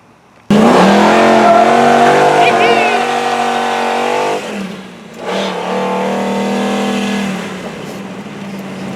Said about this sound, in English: That was a nice burnout.